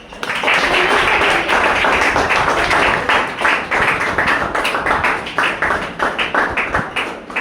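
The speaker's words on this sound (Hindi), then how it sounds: "नीचे वंडरफुल तालियों के साथ उन सीनियर्स का स्वागत करेंगे" Sustained applause from a crowd, dense clapping that stays loud and steady throughout with a few sharper claps standing out.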